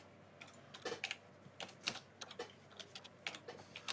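Rapid, uneven keystrokes on a keyboard while searching for the viral Dubai chocolate bar, a steady run of close, crisp clicks with no talking.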